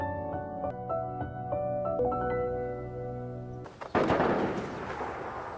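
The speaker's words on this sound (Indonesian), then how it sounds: "Mendengar suara tembakan itu" Over a sustained musical drone, a sharp burst of gunfire erupts near the end, loud and sudden, followed by a noisy rumbling tail.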